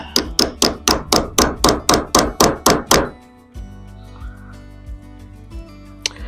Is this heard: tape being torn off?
no